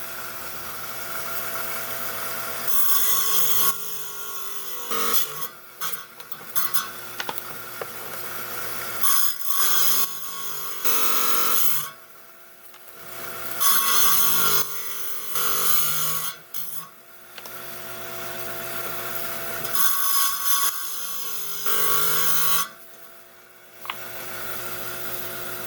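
A saw trims a piece of zebra calcite stone for a cabochon, a steady grinding whine in several long passes broken by short pauses, close and fairly loud with no talking.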